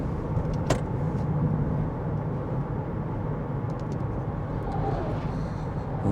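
A car coasts downhill in neutral, the steady low road and tyre rumble fairly close and gradually easing as speed drops, with a brief higher rush near the start.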